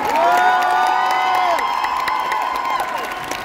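A lively crowd at a Japan Expo cosplay show cheers and shouts over continuous applause, with whoops and children's voices rising above the din.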